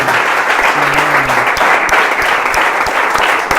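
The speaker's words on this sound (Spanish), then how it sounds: "Recibe este aplauso en el nombre de Jesús." Steady applause from a church congregation, dense and continuous throughout, with a faint low hum and no clear talking over it.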